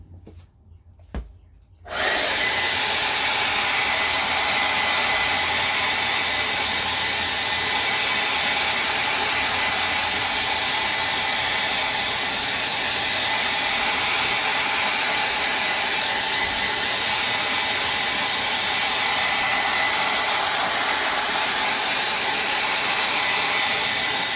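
A hair dryer switches on after a brief quiet moment and blows steadily, drying paint on a Christmas ornament; a loud, constant whooshing roar with a motor whine holds unbroken for over twenty seconds with no talking.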